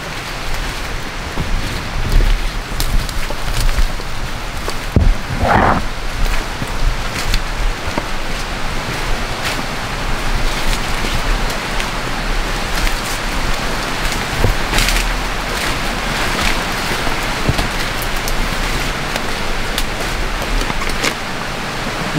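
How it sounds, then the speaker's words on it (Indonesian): Drizzle falling on dense tropical forest foliage, a steady, even hiss that fills the whole stretch close around the listener, with no talking. "Namun di sini sudah mulai gerimis, jadi kita harus segera bergerak."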